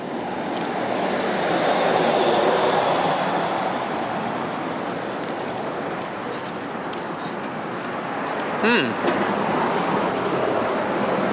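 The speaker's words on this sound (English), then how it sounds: "Hey, there's a subway going by." A subway train rumbles past along Yonge Street in Toronto in the early morning, a broad, steady roar that swells and slowly fades, heard from nearby with no talking.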